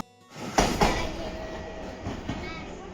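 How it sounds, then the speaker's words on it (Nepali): A train arrives at a station, with rumbling wagons and a couple of sharp clattering wheel knocks close by, then a steady rolling rush under background noise. "हामीले चाहिँ काम सकेर पनि ट्रेन पनि आइसक्यो"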